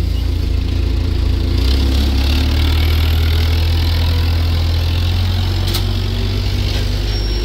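Imported Chinese excavator driving out, a loud, steady low diesel engine drone with mechanical rattle close by, no talk.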